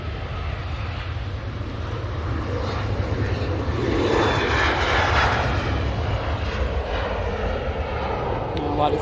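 An Etihad Boeing 777 at Manchester Airport produces a broad jet-engine rumble that swells to a peak midway and then eases slightly, with wind buffeting the microphone.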